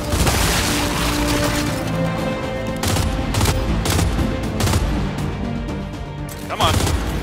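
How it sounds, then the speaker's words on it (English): Loud, dense bursts of explosions and gunfire pound repeatedly in a chaotic Gears of War 5 battle, with a brief voice near the end. "hoping that all these explosions aren't gonna hurt us"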